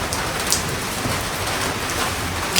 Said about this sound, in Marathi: ताई पाऊस चालू आहे